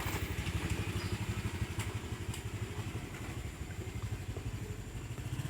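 A motorcycle at a roadside near an Islamic boarding school in Sumenep, Madura, its small engine puttering with a rapid, even pulse, fairly faint and steady, with a few light clicks and knocks nearby.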